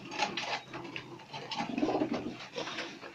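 Soft, low cooing of pigeons of various breeds repeating in short bursts, with a few higher chirps and faint rustling around them.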